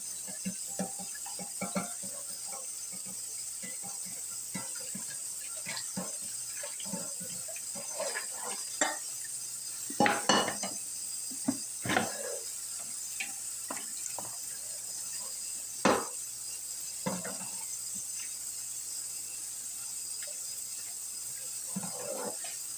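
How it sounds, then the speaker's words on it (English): A frying pan being washed in a kitchen sink under running tap water, a soft continuous hiss of flowing water broken by occasional clinks and splashes as the pan is handled. "Wash me out another frying pan, guys."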